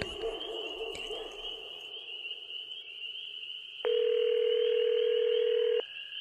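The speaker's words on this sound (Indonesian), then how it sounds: "aku masih menunggu telepon untuk diangkat oleh orang tuaku" A telephone ringback tone sounds while waiting for an answer on a call made from a mountain campsite: a steady tone with faint night insects, then one long, louder ring burst of about two seconds.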